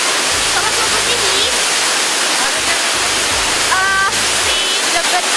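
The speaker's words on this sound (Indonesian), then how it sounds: "Si debit air dari air terjun ini semakin banyak ya" The Ringin Jenggot waterfall, swollen after rain, roars in a loud, constant rush of pouring water close by, with voices speaking faintly beneath the noise.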